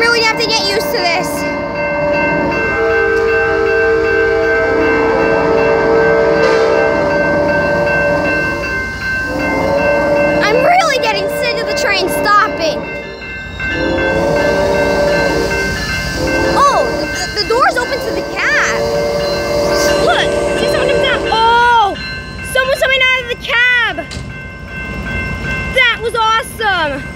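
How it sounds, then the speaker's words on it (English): Locomotive 90208 and a second train pass close by with a loud, sustained rumble of wagons, broken by horn blasts and squealing wheel tones, while people talk nearby. "Two trains."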